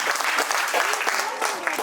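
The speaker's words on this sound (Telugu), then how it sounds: "అందరూ చప్పట్లు కొడదా." An audience at a Christmas church drama claps loudly and steadily in a thick, continuous burst, with voices mixed in among the clapping.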